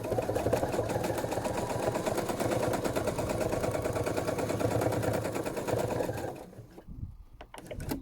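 An embroidery machine stitches a quilt block with variegated thread in a fast, steady, close mechanical patter that runs for about six seconds. Then it stops, leaving quiet, faint clicks.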